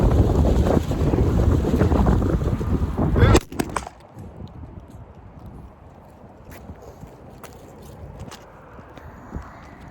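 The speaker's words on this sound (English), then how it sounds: "Wind strong out here today." Strong wind buffets the microphone outdoors in a loud, continuous roar for the first few seconds, then drops to a gentler, steady gusting with occasional bumps.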